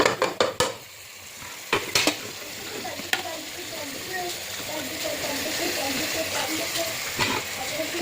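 Onions, tomatoes, mint and coriander sautéed and stirred in a pan for a soya chunk veg biryani, with a steady close sizzle, several sharp utensil knocks near the start and scraping stirs throughout.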